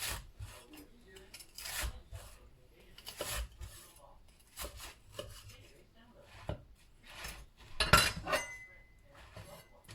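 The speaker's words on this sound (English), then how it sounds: "let's get Hadley's sliced up" A knife cuts through a grilled cheese sandwich in a home kitchen, making scraping, crunchy strokes in irregular bursts close to the mic, with soft clinks of plate and cutlery and people chatting now and then.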